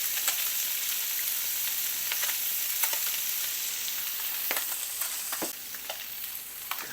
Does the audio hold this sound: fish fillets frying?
yes